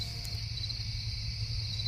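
Crickets chirp in a steady, continuous trill in the background of a quiet night scene, faint and unbroken throughout.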